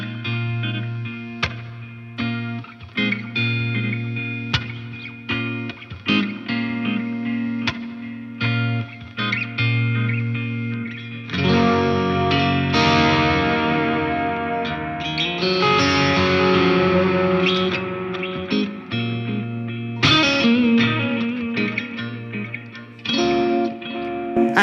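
Electric guitar played through channel 1 of a LunaStone pedal with a little delay and reverb, a distorted chorused tone carrying steady sustained notes and chords that grow fuller and brighter partway through, heard alone without talk.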